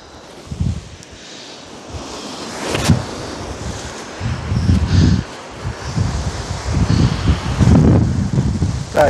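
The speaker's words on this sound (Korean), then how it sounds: "지금 파도가 굉장히 세죠?" Strong sea waves break and wash ashore at Songjeong beach, a steady roar of surf with repeated heavy surges and wind noise across the whole stretch.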